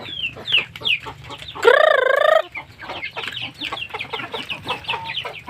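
Several chickens being fed cluck in quick, overlapping bursts close by, and a rooster crows loudly partway through.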